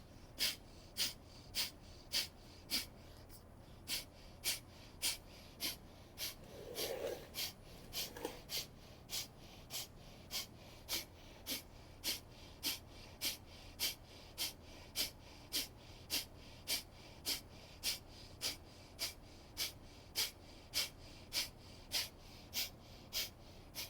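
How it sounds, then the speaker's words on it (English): Rapid, forceful breath-of-fire breathing pumped through the right nostril during a yoga practice, a steady train of about thirty sharp, even exhalation bursts at close range, with one brief irregular breath in the middle. "we'll do powerful breath of fire through the right"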